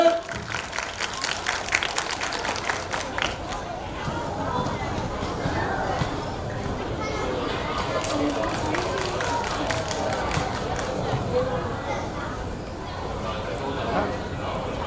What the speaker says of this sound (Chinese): 掌声鼓励，谢谢